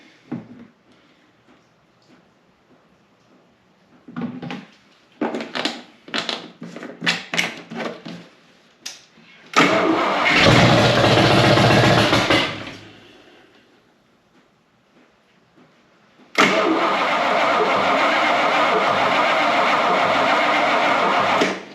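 A smoky 1955 Hemi 331 V8 barn-find engine cranks without starting: scattered clunks and short bursts first, then two long, loud, steady cranking runs separated by a quiet gap.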